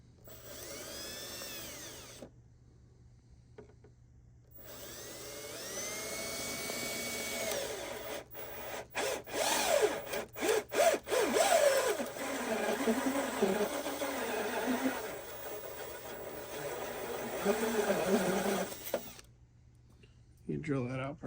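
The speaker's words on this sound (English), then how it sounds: "So another one. I'll drill that right over here." A power drill whines in short bursts close by while drilling holes to mount a septic system control panel, with gaps of quiet and some handling noise between runs.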